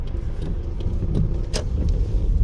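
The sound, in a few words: small BMW car driving by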